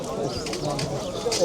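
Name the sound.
pigeons cooing at a bird market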